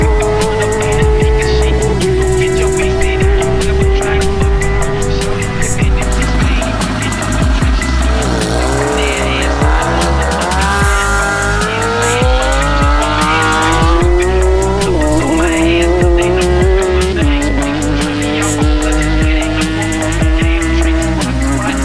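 BMW speed-record car with a 2JZ engine at full throttle on a frozen lake, a loud continuous engine roar climbing and shifting pitch through the gears with tire squeal, steady and close throughout.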